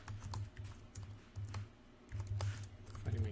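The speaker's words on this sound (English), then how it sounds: "Fighting my keyboard now." Computer keyboard typing while writing CPU emulator code, a steady run of close, crisp key clicks in uneven bursts with short pauses, alone without talk.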